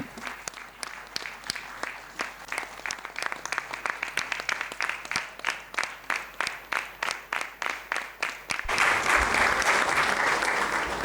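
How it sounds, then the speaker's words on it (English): An audience at a business chamber event welcomes the Union Finance Minister with a steady round of applause: rhythmic, fairly loud clapping from many hands that swells into a dense, continuous roar of applause near the end. "with a huge round of applause."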